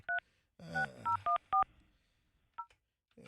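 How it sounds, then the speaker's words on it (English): A telephone keypad dials a cell phone number, sending a quick string of separate DTMF tones in uneven bursts, close and clear, with a stretch of low background rumble between the tones. "Hang on, let me call the cell phone."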